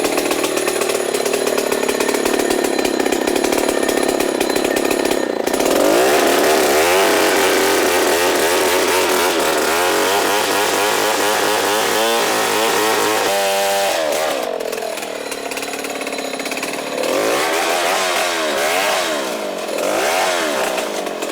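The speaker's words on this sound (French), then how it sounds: "il va mettre la scie maintenant dans le bois pour commencer à la battre" A loud chainsaw roars steadily up close, its engine pitch rising and dipping as it bites into a tree trunk during forest clearing, running continuously.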